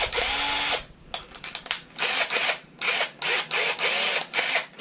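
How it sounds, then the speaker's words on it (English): A power drill whirs in repeated bursts, starting and stopping several times with brief pauses, loud and close. "Get the drill ready for it."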